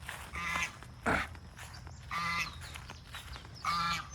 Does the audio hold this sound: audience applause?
no